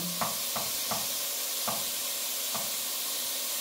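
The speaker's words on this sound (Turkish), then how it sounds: "Karıştırmaya devam ediyoruz." A spoon stirs mushroom soup in a pot under a constant steamy hiss, with about five soft scraping knocks spaced irregularly across the stretch.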